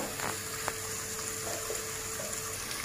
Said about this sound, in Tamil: இப்போ இறால் வந்து லைட்டாக பொரிஞ்சிருக்கு